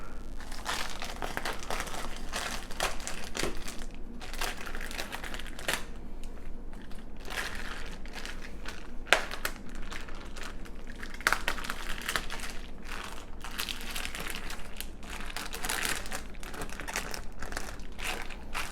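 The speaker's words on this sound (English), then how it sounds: "I'll take it out of the wrapper here" A USDA Prime brisket comes out of its plastic wrapper with continuous crinkling and crackling of the plastic up close, punctuated by sharper rustles and handling sounds throughout.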